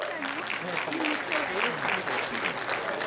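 An audience claps steadily through a classical dance programme put on by arts students, the dense applause holding at an even level for the whole stretch while a voice speaks over it.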